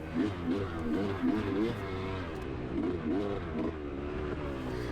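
A 2018 dirt bike at a harescramble race rides off again, its engine revving up and down in wavering, throaty pulses that stay loud and close throughout.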